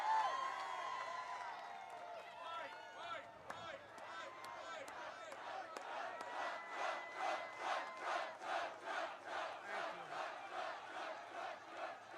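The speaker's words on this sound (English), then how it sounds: "What a crowd this is." A large outdoor rally crowd for President Trump in Mosinee, Wisconsin cheers loudly, settling into a steady rhythmic chant with regular pulsing beats after an initial wash of roaring noise.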